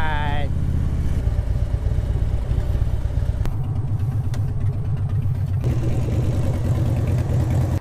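A Harley-Davidson Street Glide motorcycle engine runs with a loud, steady low rumble and shifting tone as it is ridden, the sound continuous and close throughout.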